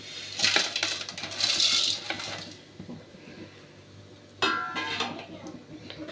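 Vermicelli poured into hot ghee in a pan, a rattling, clinking rush as it lands, then hissing frying with metallic scrapes and a second burst of noise partway through.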